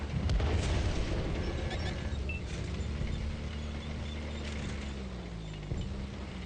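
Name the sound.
artillery fire in a video game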